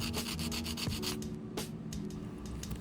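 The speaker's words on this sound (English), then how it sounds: "The shaping portion is always so satisfying." An electric nail drill files and shapes polygel duck nails, giving a steady, continuous grinding whir with no pauses.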